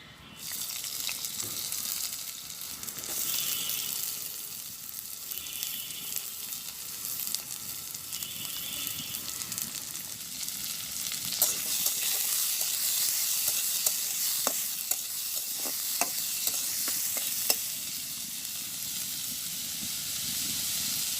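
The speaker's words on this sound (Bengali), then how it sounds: "এখন দিয়ে দেব কেটে রাখা পেঁয়াজ রসুন মরিচ, এগুলো দিয়ে দেবো এই তেলের মধ্যে।" Chopped onion, garlic and chili hit hot oil in a pan, giving a continuous close hissing sizzle with occasional crackles and stirring clicks. It sounds like an outdoor village kitchen, and no one talks.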